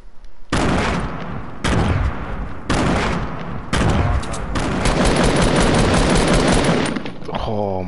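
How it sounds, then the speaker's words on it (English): Rapid bursts of automatic gunfire in a shooter video game, loud and close, coming in four separate volleys and then one long sustained stream that ends in a ringing tail. "I just shot"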